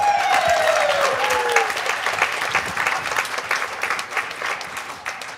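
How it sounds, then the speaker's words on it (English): Wedding reception guests applaud after a speech, a dense burst of many hands clapping that starts loud with a brief whoop and gradually thins and fades toward the end. "Another big round of applause for David, everybody."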